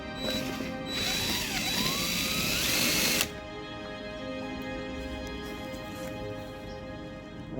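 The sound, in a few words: power drill driving through material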